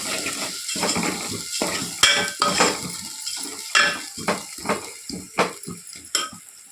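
A spoon stirs mint and curry leaves into cluster beans frying in a pan, giving a soft sizzle under repeated scraping and clinking strokes that come in an uneven rhythm, close and fairly loud.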